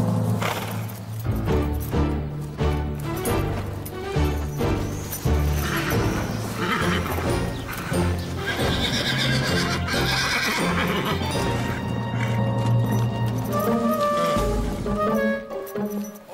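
A horse whinnies loudly and repeatedly over a dense, continuous bed of music.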